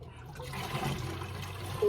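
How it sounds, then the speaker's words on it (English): Ginger tea poured from a bowl into a container, a steady liquid splash and trickle running close by for about two seconds. "I want to get it where I can just pour this bowl in here."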